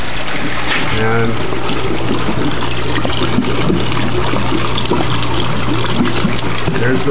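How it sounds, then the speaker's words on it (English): Water from a geyser pump pours steadily into an aquaponic gravel bed, a continuous trickling, splashing flow heard up close with a low steady hum beneath it. "there's the water going into my gravel bed"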